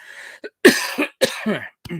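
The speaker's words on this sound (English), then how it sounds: "Excuse me, I had a bit of a cough today." Several sharp, close coughs come in a quick uneven series, with brief gaps between them.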